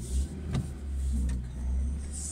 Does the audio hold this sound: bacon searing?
no